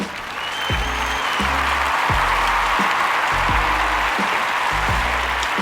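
A small group of people applauds steadily and close by, a dense continuous clatter of hands with a few louder beats underneath.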